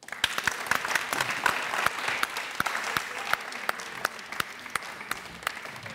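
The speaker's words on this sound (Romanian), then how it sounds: "Aplauze pentru Ana" Moderate studio audience applause on the Romanian TV game show Roata Norocului, a steady patter of many hands with a few sharp, distinct claps standing out, lasting about six seconds.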